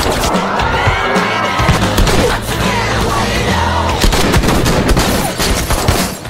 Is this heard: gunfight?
yes